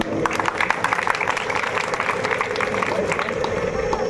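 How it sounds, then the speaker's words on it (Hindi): A crowd at a Bhagwat Katha religious gathering claps continuously, a dense patter of applause with a voice faintly present underneath. "एक बार इनके लिए जोरदार तालियां"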